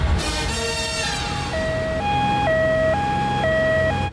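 An ambulance siren wails loudly and close, its pitch first sweeping then alternating steadily between two tones in a continuous hi-lo pattern.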